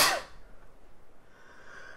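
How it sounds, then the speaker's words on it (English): A single sudden sneeze bursts out at the very start, loud and close, then dies away into quiet breathing and faint room noise. "I gotta sneeze."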